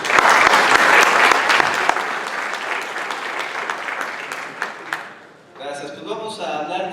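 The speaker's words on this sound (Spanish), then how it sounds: "Un aplauso, por favor." Audience applause at a structural engineering lecture on tall masonry buildings, a dense, steady wash of clapping from a seated crowd that fades over several seconds, then gives way to a voice speaking.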